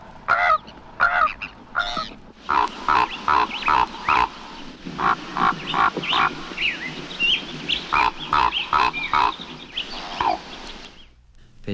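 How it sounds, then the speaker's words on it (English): Raven calls: a long run of loud, close, hoarse croaking notes in quick uneven bursts, with a few separate croaks at the start and a brief pause midway. "159, Raven."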